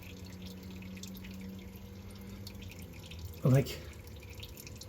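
Liquid trickles from a pulled fuel tank drain line on an LS-swapped 1968 Cadillac hearse, over a low background hum, with one brief louder splash near the end; a voice speaks briefly.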